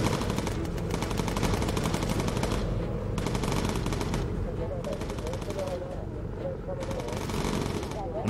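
Rapid machine-gun bursts from the video game Bomber Crew come in repeated rattling volleys separated by short pauses, loud and close, with game engine drone underneath.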